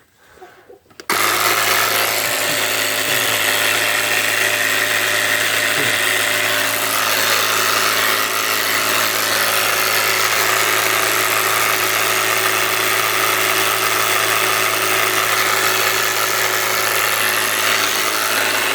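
A ProCraft LK30 cordless pump inflates an empty car tyre, starting abruptly and running at a loud, steady motorised drone with a constant buzzing tone, uninterrupted and alone.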